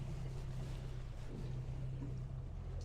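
An outboard motor on a boat hums steadily near the shore of Long Lake, Ontario, a close, low droning tone with wind and water noise over it, no talking.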